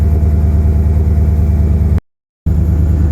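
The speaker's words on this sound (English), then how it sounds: "We're gonna wait for the idle to drop down." A Porsche Cayenne engine idles with a steady low rumble, cut off abruptly by a brief silence before the same drone resumes; the car has a stalling-after-refueling fault.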